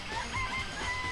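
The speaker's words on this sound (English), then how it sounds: "I remember there were some chickens in the chicken coop." Chickens clucking in a coop in the Danganronpa video game, a brief burst of layered fowl calls over a dense, steady background.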